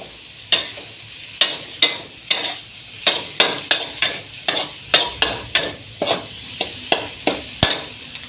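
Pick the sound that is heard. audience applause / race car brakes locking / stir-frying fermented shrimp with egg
stir-frying fermented shrimp with egg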